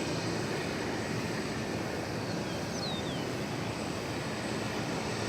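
American Airlines flight 1323 at DFW Airport, a steady broad roar of airliner engines heard at a distance, constant and unbroken throughout with no talking.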